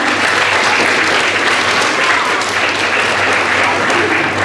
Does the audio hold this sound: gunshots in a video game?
no